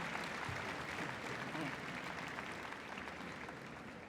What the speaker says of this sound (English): Give them a bit more of applause.